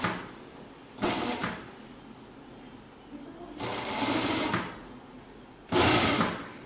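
A sewing machine stitches a cross-cut bias strip onto the neckline of a baby jumpsuit, running in three short bursts separated by quieter pauses, close and fairly loud.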